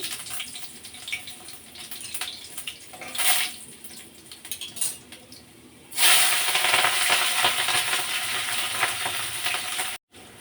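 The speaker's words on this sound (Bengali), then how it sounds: "তেলটা গরম হয়ে গেছে, এখন আমি রসুন কুচি দিয়ে দিচ্ছি" Chopped garlic sizzling in hot oil for an eggplant and potato dish, a steady hiss that surges loudly when the garlic drops in and keeps frying strongly, with no talking.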